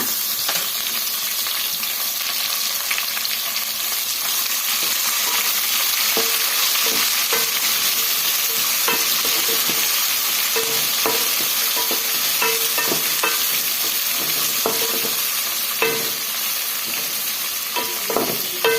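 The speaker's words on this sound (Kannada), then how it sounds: "ಈಗ 2 ಈರುಳ್ಳಿನ ನಾವು ಈ ಥರ ಕಟ್ ಮಾಡಿ ಇಟ್ಕೊಂಡಿದ್ವಲ್ಲ, ಅದನ್ನು ಸೇರಿಸ್ಕೊಳ್ಳೋಣ" Two cut onions fry in hot oil in a pan while being stirred, giving a steady close sizzle throughout with frequent light scraping and tapping from the spoon.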